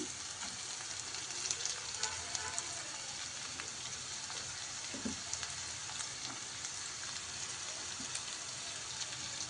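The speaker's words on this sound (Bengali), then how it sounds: "আদাটা একটু নেড়ে চেড়ে এবার সবজিগুলো দিতে শুরু করব গাজর দিলাম" Carrots tipped into a pan of frying ginger while making upma set off a steady, bright sizzle of hot oil, with light stirring clinks and scrapes over the continuous crackle.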